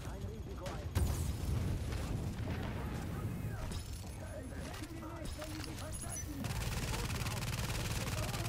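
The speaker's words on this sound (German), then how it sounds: "Vorsicht, oh, Granate." A grenade explodes in The Division, a heavy boom about one second in followed by rumbling combat noise, with someone talking over the game sounds throughout.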